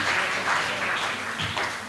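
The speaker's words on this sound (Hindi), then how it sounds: "जोरदार तालियों से बच्चियों की हिम्मत अफजाई की जाए" Applause from an audience at a school naat competition prize ceremony, a steady dense wash of clapping close by for about two seconds with no voices over it.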